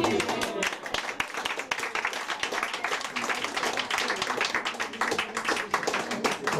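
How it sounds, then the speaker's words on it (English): Dense, sustained applause from a large audience, loud and continuous with rapid overlapping claps throughout. "Tatiana, LadyMay, Mayfield, once again, round of applause."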